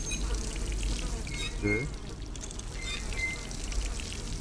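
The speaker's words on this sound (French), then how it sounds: "Fonctionner 3 fois un robinet." Water pours from a tap in the stealth game Dishonored, a steady gushing stream running the whole time beneath a voice, with a short watery gurgle partway through.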